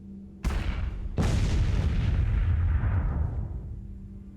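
Cannon in the sci-fi train strategy game Miners Mettle fires twice in quick succession, two loud booms each trailing off into a long rumbling decay, with no talking.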